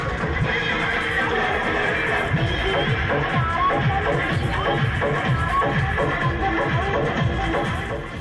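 A mare carries a daughter in a wedding procession in Sujangarh. Horse sounds blend into a dense, continuous din of crowd and procession noise that stays loud throughout.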